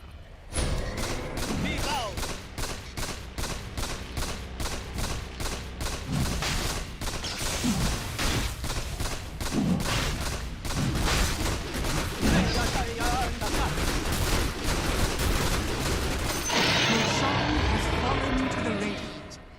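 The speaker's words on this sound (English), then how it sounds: "Somebody's shooting." Video game gunfire rattles in dense, rapid bursts almost without pause, loud and close, with a few heavier thuds mixed in before it abruptly thins out near the end.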